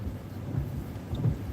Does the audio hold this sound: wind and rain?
yes